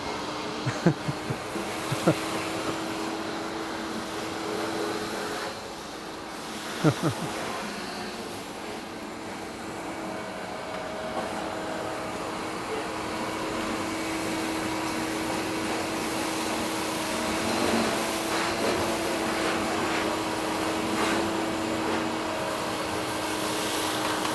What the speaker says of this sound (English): They're kind of using that shop vac, so it's pretty loud in there